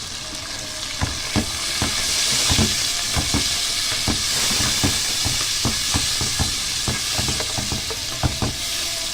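Tomatoes frying in a pan alongside liver, a constant loud hissing sizzle with frequent crackling pops and stirring knocks, close and continuous throughout.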